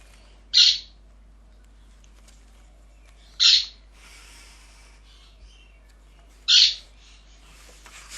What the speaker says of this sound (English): Don't have to pay any extra for the parrot noises.